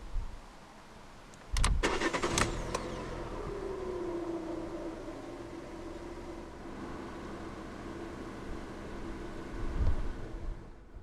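A 2016 Fiat 500 Pop Star with a 5-speed manual cranks briefly and fires up, then settles into a steady, close idle that runs for several seconds with a small rev bump near the end.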